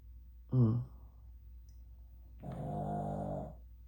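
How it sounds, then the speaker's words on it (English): A dog snores nearby: a short, throaty snort, a pause, then a longer, rumbling, groan-like breath in a quiet room. "that's my dog snoring for those that are new to my channel"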